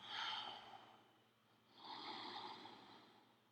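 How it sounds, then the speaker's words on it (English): Two deep, slow breaths drawn audibly through the throat during yogic breathing practice, each a soft, raspy rush of air, close and quiet with a short pause between them. "Make a sound with the throat"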